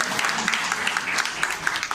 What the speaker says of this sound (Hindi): आप लोग बात ताली बजाएं हमारे संदेश के लिए।